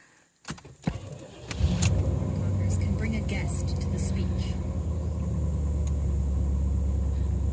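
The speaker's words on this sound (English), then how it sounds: "we're going to do a cold start on it." A 1990 Cadillac Coupe DeVille is cold started after sitting overnight: keys jangle, the starter cranks briefly, then the engine catches and settles into a loud, steady low idle rumble, with a voice speaking early on.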